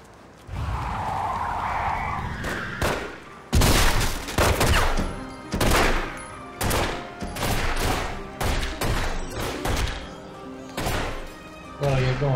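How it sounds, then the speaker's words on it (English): Heavy shootout in The Godfather game, with sharp bursts of gunfire and rattling volleys repeating in clustered, uneven rhythm, loud and close, preceded by a muffled rumbling stretch. "A lot of shooting going on."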